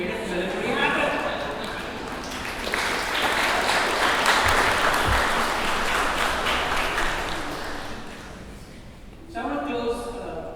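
A large crowd at a Veterans Day tribute breaks into sustained applause, a dense steady wash of clapping that swells and then fades, with a brief renewed burst near the end.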